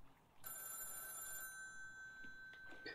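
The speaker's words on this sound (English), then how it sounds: "What is that? A phone I hear." Telephone ringing in the pixel-art video game Backbone: Prologue, a steady bright electronic trill that starts abruptly and holds at a constant level for a few seconds, with faint game ambience underneath.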